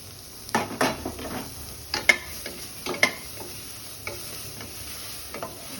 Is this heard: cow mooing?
no